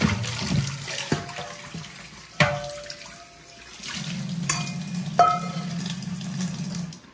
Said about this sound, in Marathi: मी अशा प्रकारे साबण लावून सगळी स्वच्छ करून घेते